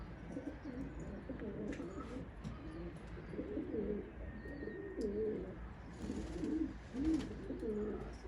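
Pigeons cooing outdoors on a cold, snowy day, low soft coos repeating in rhythmic phrases over steady background noise, with a few faint chirps and no talk.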